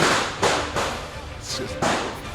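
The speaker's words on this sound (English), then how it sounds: "Yeah, the fireworks are going off the field at the moment." Fireworks go off near a schools rugby match, several sharp bangs and thuds spaced roughly a second apart, each fading quickly, with faint crowd noise between.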